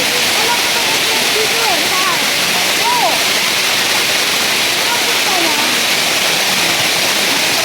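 Encanto Falls roars as a dense, steady rush of falling water, loud and close throughout, with faint bird-like chirps above it.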